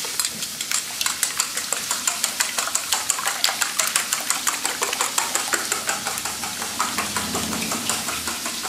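Wire whisk beating five eggs with a splash of soy sauce in a bowl for a frittata, a steady rapid train of light clinking taps close up, continuous and even throughout with no talk.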